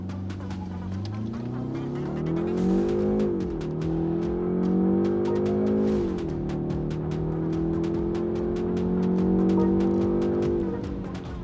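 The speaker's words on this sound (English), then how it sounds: "I'll slow down so that you can listen to the engine." A BMW 5 Series engine's tone, piped through the cabin speakers, rises and falls through gear changes as it accelerates, heard from inside the cabin, steady and fairly loud with ticking clicks throughout.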